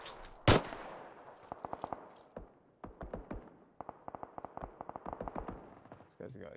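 Video game gunfire opens with one loud close blast, then runs into rapid repeated bursts of sharp cracks in quick rhythmic clusters, pausing briefly between volleys.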